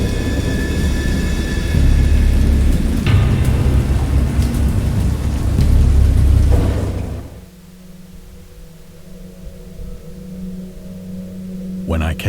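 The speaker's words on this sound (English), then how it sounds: "I have indistinct recollections of a great storm sometime after I reached the boat." Heavy rain roars with a deep rumble of thunder in a video game storm, then the storm abruptly drops away to a low, quiet hum.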